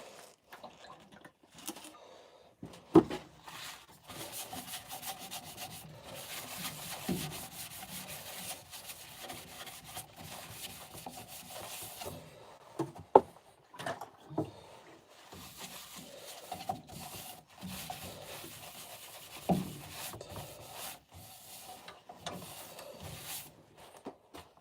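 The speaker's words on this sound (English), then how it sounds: "I may just give that another coat of sand and sealer." Sanding sealer is rubbed by hand onto a wooden bowl, giving steady dry, scratchy friction strokes with a few sharper knocks, close and moderately loud, with no talking.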